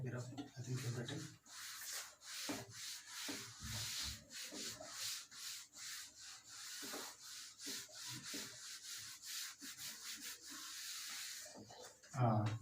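Classroom blackboard rubbed clean with a duster during a physics lesson, giving repeated scrubbing strokes in quick rhythmic bursts, close and fairly steady, with brief talk at the start and end.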